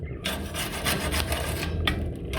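A continuous scraping, rasping sound of burning coal being raked and stirred in a pellet stove, close and steady with a few stronger strokes.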